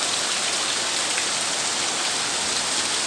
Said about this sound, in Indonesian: Rintik-rintik hujan masih terdengar.